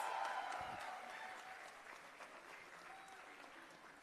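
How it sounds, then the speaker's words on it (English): Applause for graduates at the 28th annual convocation ceremony of Ramaiah Institute of Management, a steady wash of many hands clapping that fills the hall and slowly thins out over about four seconds. "A big round of applause."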